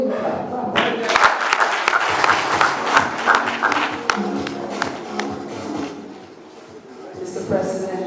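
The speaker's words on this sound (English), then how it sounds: "I can hear you clap." Audience clapping at a political meeting for a presidential candidate, a broad wash of hands that swells, dips around the sixth second and picks up again, with voices mixed in.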